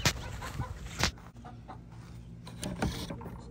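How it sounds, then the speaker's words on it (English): A hen clucks while laying an egg, with sharp bursts of clucking near the start and again near the end over a steady low background hum. "you want to see how a chicken lays an egg?"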